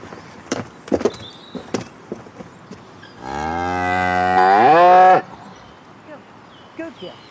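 A cow in a stall before milking gives a long, loud, close moo lasting about two seconds, amid scattered clanks and barn shuffling noises.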